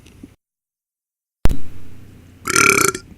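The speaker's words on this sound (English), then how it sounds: "It's been a long time since I burped on here." A person burps close up: a short sharp gulp, then a louder, raspy belch lasting about half a second after a brief silence.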